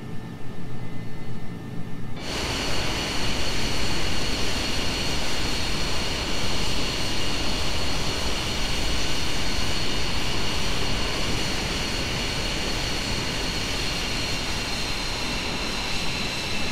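An F-22 Raptor jet taxis in Microsoft Flight Simulator at Luke AFB, Arizona: a loud, steady jet engine roar cuts in abruptly after a short quiet start and holds constant to the end, with no talking.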